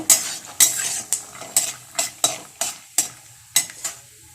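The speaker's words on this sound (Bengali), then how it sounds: "আমি যেহেতু কাঁচা বাদাম দিয়ে করব, সেই জন্য আমি কিন্তু বাদামগুলো আগে একটু ভেজে নেব" Raw peanuts fry in oil in a pan while a utensil stirs them in regular, sharp scraping strokes, with a soft sizzle underneath.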